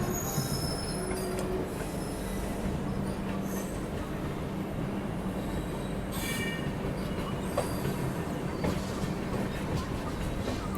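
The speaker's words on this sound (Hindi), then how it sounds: "गंगा कावेरी एक्सप्रेस चेन्नई सेंट्रल से छपरा की ओर ये जा रही है।" The Ganga Kaveri Express passenger train running from Chennai Central toward Chhapra rumbles steadily past, with continuous wheel noise, faint squeals and clatter throughout, loud and close.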